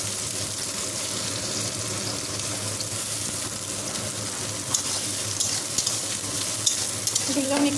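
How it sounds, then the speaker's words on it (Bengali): Onions, whole garlic cloves and a broken green chili fry in a pan, giving a steady dense sizzle throughout, with a few sharper pops and clinks of stirring toward the end. "এগুলো হোক এবার একটু ভাজা, হালকা লাল হোক।"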